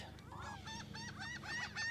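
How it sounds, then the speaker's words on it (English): Seagulls calling, a series of honking, squawking cries repeating rapidly and growing louder, over a steady low rumble of background noise. "these birds, they're killing my vibe, man. Why are seagulls even over here?"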